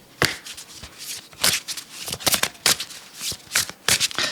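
A deck of tarot-style cards is shuffled by hand up close, producing repeated crisp riffling bursts and flicks in an uneven rhythm before a card is pulled.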